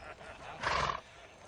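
A horse gives a short, loud neigh close by, a single whinny of under half a second against quiet background noise.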